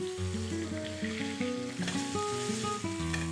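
Pork loin sears in a hot pan, giving a steady, close sizzle and crackle of frying meat under background music, with no talking.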